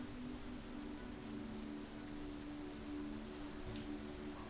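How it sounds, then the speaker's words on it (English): Steady rain in the Space Engineers video game, a soft, even hiss of falling drops with a faint low hum beneath, quiet and unbroken. "There it is, sunshine and rain."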